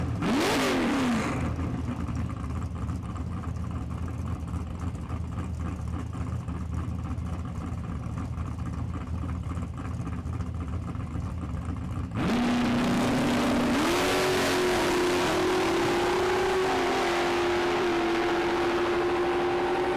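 A 1968 Ford Mustang and a 2002 Ford Mustang drag race at a Las Vegas strip, with loud sustained engine roar throughout, shifting to a higher rising rev pitch partway as the cars accelerate hard.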